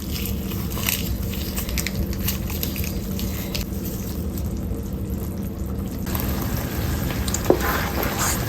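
Shito sauce with shrimp powder fries in a pot with a steady, dense sizzle and soft crackle, interrupted by faint scraping and stirring, with one brief clink near the end; no talking.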